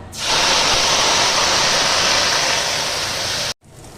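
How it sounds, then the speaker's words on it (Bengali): Ginger and onion paste hits hot oil with a loud, sudden hiss that holds steady for about three seconds, then cuts off abruptly, with no talking. "এই গরম হয়ে গেছে বন্ধুরা এবার আমি এর মধ্যে দিয়ে দিচ্ছি আদা আর পেঁয়াজ বাটা"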